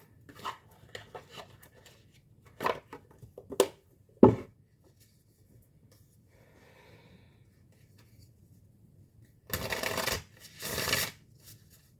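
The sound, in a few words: shuffling oracle cards, Oracle of the Seven Energies deck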